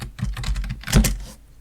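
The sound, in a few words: typing on a computer keyboard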